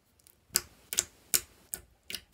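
Glossy, dense spring-mix slime squeezed by hand, giving about six sharp, crisp clicks spaced roughly every half second, close and distinct against a quiet background, with no talking.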